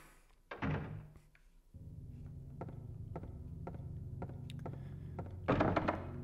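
In the Silent Hill video game, a locked door is tried: a soft thunk, then a low, muffled rattling drone with faint periodic clicks, quiet overall, ending in a louder clatter.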